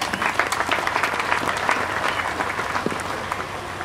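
Steady audience applause at a church community gathering, dense even clapping from a crowd throughout, fairly close and moderately loud, with no talk over it.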